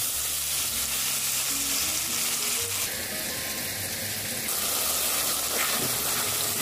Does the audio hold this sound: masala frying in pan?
yes